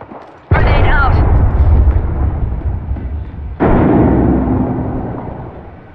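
A frag grenade detonates in Apex Legends with a sudden loud boom, its rumble rolling off for a few seconds before a second heavy blast hits and decays slowly.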